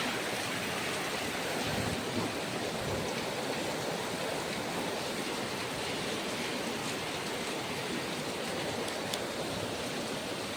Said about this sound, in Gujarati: તો ગાઈસ ફૂલ વરસાદ